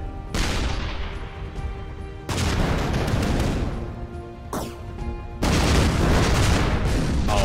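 Airstrike weapon explosions in the video game ShellShock Live come as three heavy blasts in a row, each sharp boom running into a dense, loud crashing roar.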